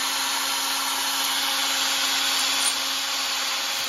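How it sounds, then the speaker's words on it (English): Drill-driven emery cloth rubbing around a brake caliper pin from a Mini JCW F56 front brake, a continuous high whirring abrasion holding steady throughout, close and fairly loud, with no talking. "We're just getting a little bit of emery cloth and just gently around the shaft of the pin."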